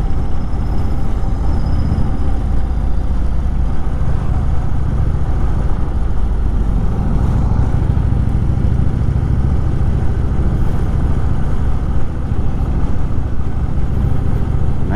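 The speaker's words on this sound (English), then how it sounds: "The exhaust is pretty quiet." A 2018 Indian Chief Dark Horse motorcycle runs with a fairly quiet stock exhaust, a steady low, even engine rumble that stays close and continuous with no voices.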